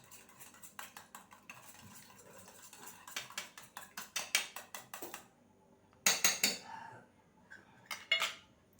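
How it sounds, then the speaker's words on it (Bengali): An egg with a little salt is beaten in a bowl: quick rhythmic clinks and taps of a utensil against the dish come in bursts with short pauses, close up and with no talking. "ডিমটাকে এবার ফেটে নেব।"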